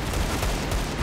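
Rapid gunfire from a CS:GO deathmatch on a desert map comes as a short, dense, continuous rattle of shots, loud and steady, with no talking.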